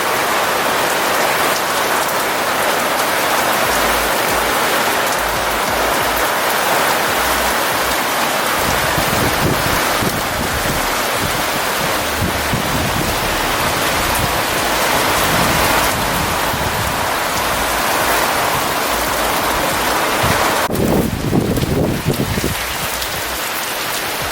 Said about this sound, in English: we love the rain